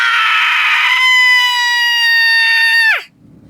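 A single loud, sustained high-pitched scream from a woman, held for about three seconds before breaking off abruptly into near silence.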